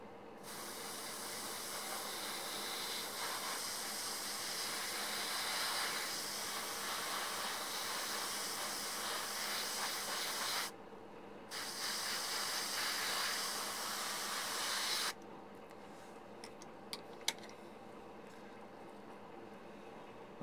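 Airbrush or spray can coating Revell model aircraft wheels with paint, a steady close hiss running for about ten seconds, breaking briefly, then resuming until a quieter stretch with small clicks near the end.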